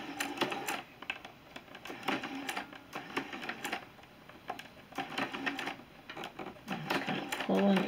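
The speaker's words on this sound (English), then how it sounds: "just going to stitch along this center seam at 1/4 inch. And some patterns suggest that you backstitch. So I'll do a little backstitch here." Sewing machine stitching a quarter-inch center seam with a short backstitch, quiet bursts of fast mechanical whirring separated by brief pauses, while a person talks.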